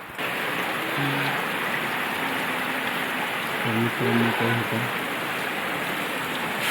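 Steady rain falling over crop fields, a dense even hiss throughout, with a few faint tonal sounds surfacing partway through and possible distant voices underneath.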